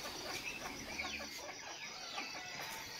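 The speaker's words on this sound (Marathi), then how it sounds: "याच बघा ही कोंबडी आहेत ना, आम्हाला झोपूनच देत नाहीत" Hens cluck steadily while roosting up high near a rural house, a soft, busy chorus of short, overlapping clucks at moderate distance with no voices.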